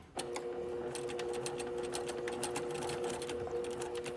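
A sewing machine stitches two layers of bias-cut fabric together, opening with a backstitch, then running in a steady, close, continuous mechanical whir with a rapid needle rhythm.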